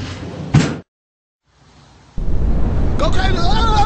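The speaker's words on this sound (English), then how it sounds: "Doors closing." Elevator doors in a Roblox lift game modelled on a Hyundai lift slide shut with a short thud, followed by near-silence and then the loud hum of the moving car with a voice over it.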